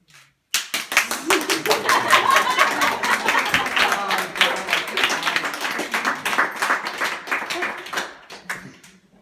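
Audience clapping at a 90th birthday speech, a sudden burst of dense, loud applause that holds for several seconds and gradually thins out, with a few chuckles mixed in.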